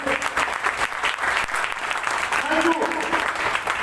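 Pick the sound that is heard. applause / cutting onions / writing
applause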